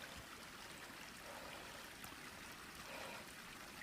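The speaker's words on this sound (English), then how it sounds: "this has the best running water that I've come across since being on the trail proper" A small mountain creek runs beside a trail near a campsite, giving a steady, soft wash of flowing water with no breaks, faint and continuous.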